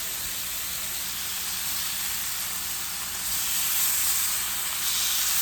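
Salmon browning in a pan, a steady close sizzle and hiss that swells slightly louder partway through, with no talk.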